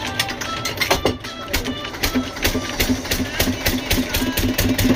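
A motor runs at a fishing spot with a fast, rhythmic knocking chug and mechanical rattle, close and fairly loud, its beat slightly uneven.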